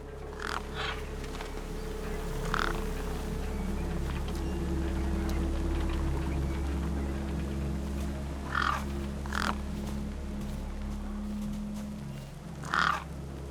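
Crow-like birds caw in short bursts over a steady low drone and ambient hum in the video game Beyond a Steel Sky, three or four brief calls spaced apart, moderately near.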